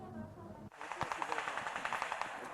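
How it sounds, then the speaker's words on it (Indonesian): Machine gun fire during the Super Garuda Shield 2022 live-ammunition exercise at Puslatpur Kordiklatat Baturaja, a rapid rhythmic burst of shots following a single sharp report, with a voice narrating over it. "latihan tembakan amunisi tajam terintegrasi Super Garuda Shield 2022 di Puslatpur Kordiklatat Batu Raja"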